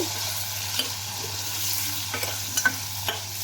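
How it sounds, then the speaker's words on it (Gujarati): Potatoes are stirred in a pan: a soft, continuous sizzle with a few light scrapes and clicks near the end, close by, over a low steady hum and with no voices. "આપણે આ બટેટું ને બધું હલાવી લેશું"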